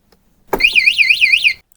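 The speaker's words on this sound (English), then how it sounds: "Now the alarm is armed. If I move the bike even a little bit," Loud electronic siren from a Shineray Cub 50 motorcycle alarm, a close warbling tone rising and falling about five times over one second after a sharp onset, then cutting off.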